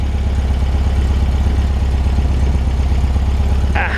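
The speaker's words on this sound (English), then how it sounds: "Great sounding little exhaust." A 1964 VW Beetle, finished in Porsche 356 Speedster silver, idles close by with a loud, even, throbbing air-cooled burble from its exhaust and a steady low pulse throughout.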